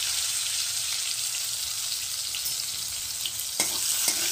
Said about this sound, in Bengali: আমি এখন বেগুনগুলোকে একটু ভেজে নেব হালকা করে